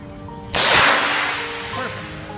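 A distress flare (fusée) is test-fired on shore before people head out to sea: one sudden loud whooshing crack that decays into a long fading hiss, with faint voices in the background.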